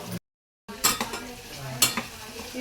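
Pieces of mutton drop into a hot curry pan and get stirred, a steady sizzle with two sharp spoon scrapes and clacks up close, after a brief moment of silence.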